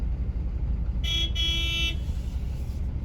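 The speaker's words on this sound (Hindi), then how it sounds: "और पीछे से जो हॉर्न मार रहे हैं किसी की नहीं सुन रहे हैं एकदम" On a busy highway between Manali and Delhi, a vehicle horn sounds from behind in two close blasts lasting about a second, loud and tonal over the steady low rumble of traffic and engines.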